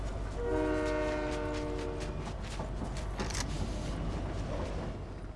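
A train rumbles past in the Fortnite video game, its horn sounding loudly near the start over a continuous heavy rolling roar with rhythmic clatter, and the horn fades as the train moves on.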